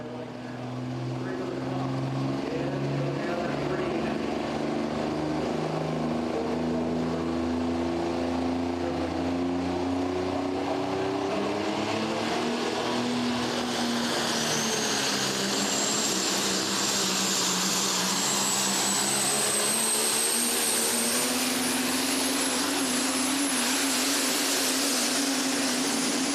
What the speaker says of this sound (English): nothing compared to the super stock diesel 4x4 trucks that we're looking at right now.